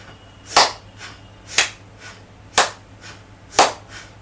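Hands clap overhead during a breathing and circulation exercise: four sharp, loud claps spaced evenly about a second apart, each followed by a softer muffled thump, in a quiet room with a low steady hum.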